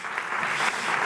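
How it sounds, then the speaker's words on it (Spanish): A short, steady burst of audience clapping fills the room, dense and even throughout with no voices over it. "un aplauso para ellos."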